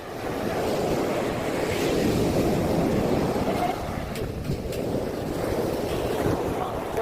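A tourist boat racing at full speed across the sea on a dolphin-watching trip, with loud rushing water, hull slap and wind buffeting the microphone continuously, and voices faintly mixed in.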